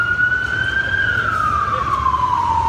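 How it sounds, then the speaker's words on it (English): A siren wails steadily, its pitch slowly sliding down, over a constant low rumble of traffic. "Hear all these sirens."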